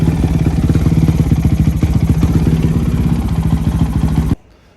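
Honda Shadow 750 motorcycle engine idling close and loud, a rapid even throbbing pulse that runs steadily after being put in gear, then cuts off abruptly near the end.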